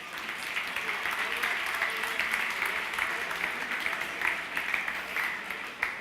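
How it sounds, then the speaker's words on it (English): At a gala dinner and awards ceremony, a roomful of guests applauds steadily for finalists, winners and juries, the clapping even and moderately distant, with faint murmuring voices underneath. "the very hard-working juries who deserve a round of applause"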